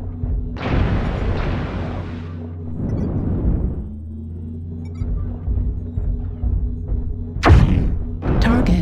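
Target explosion in a mech combat video game, with loud booming blasts and a rumbling burst over a steady low mechanical hum, followed by a sharp later impact, close and with no talk.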